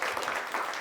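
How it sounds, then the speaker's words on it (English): A crowd applauds at a morning session: dense, continuous clapping that fills the whole short moment at steady loudness. "give yourselves a big round of applause for being here this morning."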